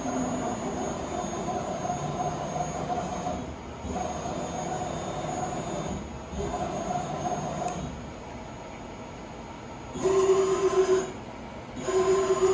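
A Bridgeport Romi EZ Path SD CNC lathe jogs its Z-axis, giving a whining mechanical drone with tonal hums that starts and stops in several segments, the last bursts louder and higher-pitched.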